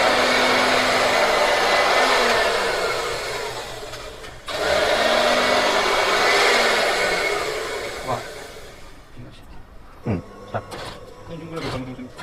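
A fabric cutting machine slices nighty cloth in a garment factory, a loud, steady motorized whir with a brief cut-off near the middle, then it winds down into scattered clacks and knocks.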